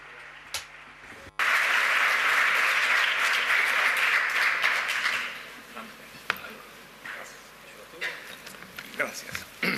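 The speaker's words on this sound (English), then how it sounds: "ask you to join us here on stage, Accountant Enrique Iglesias, with a great round of applause" An audience at a conference session applauds loudly as Enrique Iglesias is welcomed on stage, a dense burst of clapping that swells, holds for several seconds, then thins out into scattered claps and faint voices.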